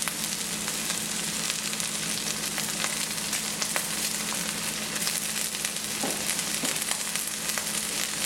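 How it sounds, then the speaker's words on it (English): Onions and a sprig of curry leaves sautéing in a hot pan, a continuous loud, even sizzle with a few faint clicks of stirring underneath. "And then we're going to add our onions, our sprig of curry leaves,"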